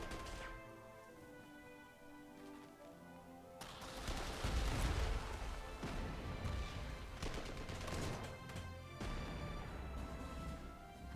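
Gunfire against anti-tank guns in the strategy game Panzer Corps 2, a burst of loud cracking shots and crashing impacts starting a few seconds in over tonal game music, fairly quiet overall.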